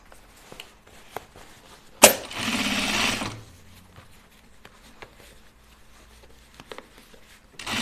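A sewing machine stitching the waistband of a pair of pants, running in one close, steady burst of about a second, surrounded by quieter fabric handling and light taps.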